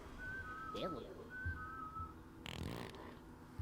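A person whistles short melodic notes to copy a character's calls in the Oddworld New 'N Tasty video game, two brief tonal phrases over game background noise with a rustling burst near the end.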